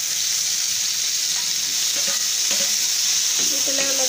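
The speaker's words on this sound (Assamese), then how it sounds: "দি পেলাই অলপ দেৰি ভাজি থাকিম।" Tomatoes fry in a pan with ginger and garlic for an Assamese chicken curry, giving a loud, steady close-up sizzle, with a few faint utensil knocks toward the end.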